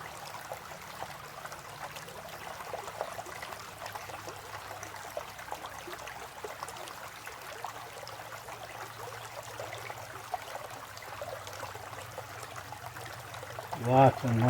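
Water trickles steadily and quietly while black sand is slowly stripped in a gold pan outdoors, a continuous soft wash with a brief louder splash at the end.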